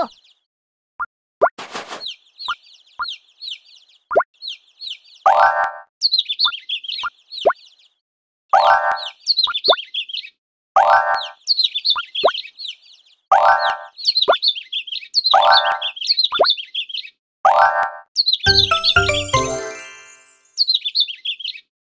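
Cartoonish bird chirps and tweets repeat in quick bursts alongside bouncy plopping sounds in a Pororo children's game about feeding baby birds, ending with a brief sparkly flourish.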